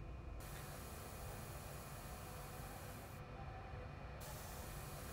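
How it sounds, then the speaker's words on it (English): Liquid mixed with metal-decorated nanotubes is sprayed onto a gas-sensor chip in a lab, a steady broadband hiss that runs the whole time with slight changes in tone. "That's sprayed onto the chip."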